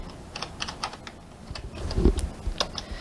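A short run of light keyboard clicks as data is entered into a spreadsheet column, close and quiet, a few soft keystrokes followed by a heavier key press near the end.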